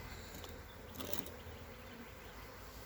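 Honey bees buzz around an opened hive during an inspection, three weeks after a package was installed: a steady, quiet, droning hum with no voices.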